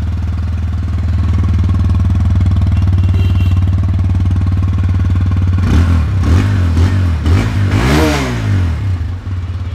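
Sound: exhaust note of old TVS Apache RTR 160 2V motorcycle

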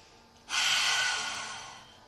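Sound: yoga breathing

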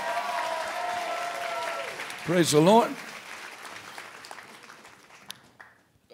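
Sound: audience applause, a big hand clap

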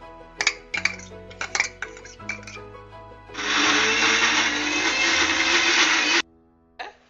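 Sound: mixer grinder grinding fried fenugreek, cumin and onion paste

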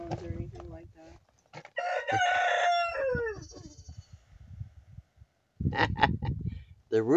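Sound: rooster crowing

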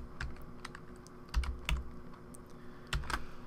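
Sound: typing on a computer keyboard

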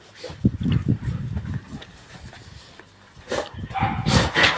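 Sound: search dog Maki barking at a box

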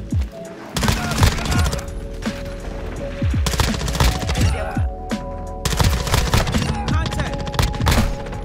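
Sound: grenade explosions in Call of Duty video game

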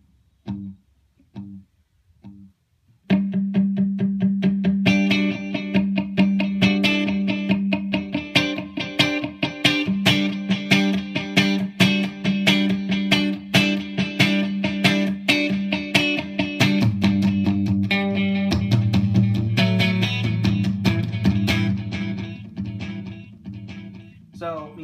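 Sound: Boss DD20 delay pan mode played in mono

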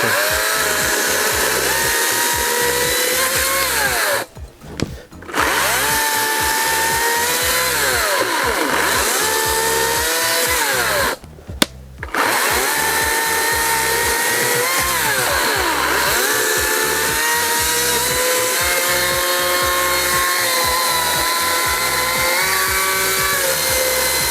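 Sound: cordless chainsaw cutting wood

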